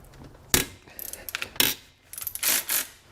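A wrench ratchets and clicks while loosening a 12 mm alternator bolt on a 2006-2010 Subaru Forester with an EJ25 engine, giving a close series of short metallic clicks and bursts of ratcheting with brief pauses between.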